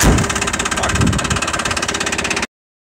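A Mazda Tribute engine runs close by in a garage with a loud, steady rhythmic chug, then cuts off abruptly into silence.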